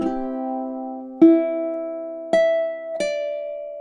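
A ukulele picks four clean notes in a slow measure, each plucked tone ringing and sustaining into the next, played close and solo without any voices.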